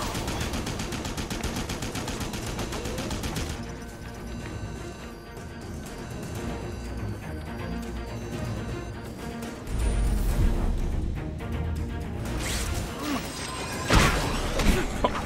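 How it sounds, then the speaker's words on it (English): Turret being destroyed in The Amazing Spider-Man video game, sustained rapid machine-gun fire and blasts over game music, building to louder crashing impacts near the end. "All right, destroy this turret."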